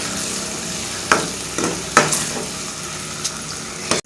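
Green beans stirred and frying in a pan with garlic and ginger: a steady sizzle broken by a few sharp spatula scrapes and clanks, close and fairly loud, with no talking.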